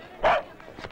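A woman imitates a dog's bark with her voice, giving one short, loud yelp-like bark, followed by faint voices in the background.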